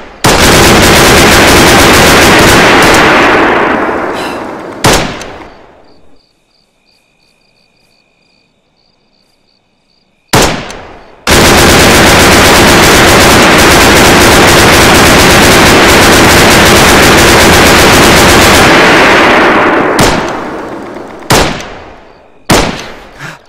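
Sustained medium machine gun fire in Arma 3 on a Takistan battlefield, loud dense bursts running for several seconds, breaking off into near silence with a faint high tone, then resuming as a long continuous roar with short trailing bursts.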